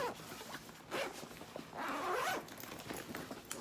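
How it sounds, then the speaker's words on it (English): An expandable travel bag has its middle zipper pulled open, a run of scratchy zipping sounds with a longer, louder pull near the middle, close and fairly quiet, with no talking. "If you want to expand the bag, all you do is you unzip the middle zipper right here."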